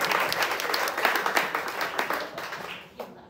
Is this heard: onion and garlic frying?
no